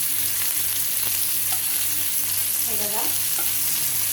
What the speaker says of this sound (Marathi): आता एक बाजू परतून घेते तर दुसऱ्या बाजूला आपण शेकायला ठेवूया म्हणजे दुसरी बाजू पण व्यवस्थित फ्राय होईल